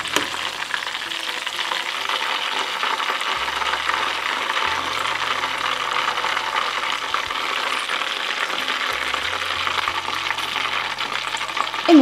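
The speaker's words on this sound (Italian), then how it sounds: "E ne frigo altre due." Scotch eggs deep fry in hot oil, giving a steady, even sizzle that carries on close and unbroken, with a faint low hum running underneath.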